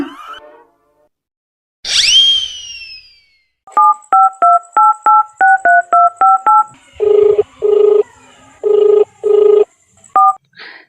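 A quick rising whoop, then a rapid series of telephone keypad tones, followed by slower, longer beeps in an uneven rhythm.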